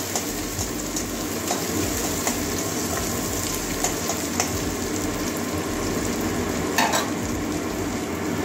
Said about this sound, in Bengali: পেঁয়াজ কুচি দিয়ে দিচ্ছি। ভেজে নেবো।